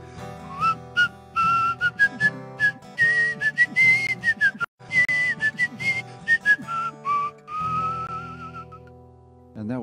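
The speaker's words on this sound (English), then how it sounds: "And that was David on whistle." A tin whistle plays a flowing, ornamented melody alone during a Sunday church worship service, with clear sustained notes rising and falling over a soft instrumental backing.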